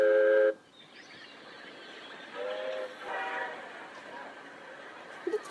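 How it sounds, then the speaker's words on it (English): A train bound for Calcutta gives a short, bright whistle blast at the start, then settles into a faint, low rolling rumble of carriages. "The train for Calcutta was leaving that night."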